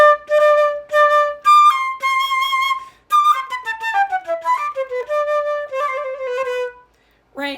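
A solo melodic instrument plays a phrase note by note, each tone separately attacked so the line sounds bumpy and uneven, then the final note is cut short rather than allowed to fade.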